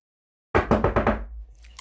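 A door is rapped in a quick, even series of about five knocks, close and fairly loud, followed by a short fading tail and a faint tap at the end, with no voices.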